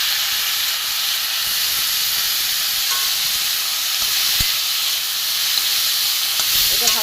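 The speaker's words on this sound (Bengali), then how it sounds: "এবারে আমি এই যে ছোলা ভিজানো আছে, সেদ্ধ নেই, ভিজানো ছোলা দিয়ে দেবো।" Soaked, unboiled chickpeas go into a hot pan for a vegetarian ghugni. A continuous steamy hiss and sizzle holds steady at close range, with faint stirring near the end.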